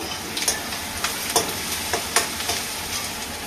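Tomato pieces frying in a pan for a chicken dish, with a steady sizzle broken by sharp crackles and stirring scrapes at irregular intervals, close and moderately loud with no talking.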